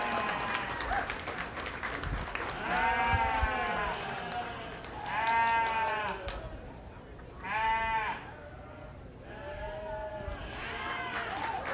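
Crowd applause at a county fair sheep show, a steady patter of clapping mixed with loud, repeated sheep bleats rising above it in several bursts.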